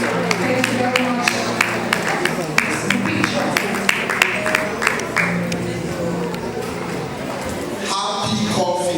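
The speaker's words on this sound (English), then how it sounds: "A round of applause for them" Audience applause and scattered claps at a live event, with crowd noise, music and talking throughout.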